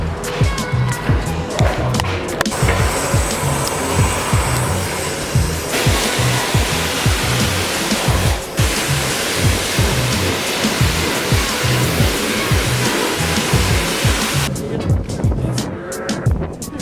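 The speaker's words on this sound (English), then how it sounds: "I'm gonna give it a quick rinse down" A car is rinsed down with a water spray, a steady loud hiss of water hitting the bodywork that runs continuously with brief shifts in intensity.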